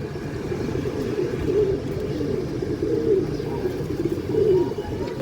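Kaldam pigeons, a large pair, cooing in a loft: soft, repeated throaty coos in overlapping phrases, close and steady, over a low background hum.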